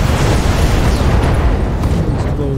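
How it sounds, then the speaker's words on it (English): An explosion in the mech video game Battletech gives a loud, sustained, dense roar of noise that fills the whole clip with rumbling debris and no talk. "Explosion. Pilot injured. Target neutralized."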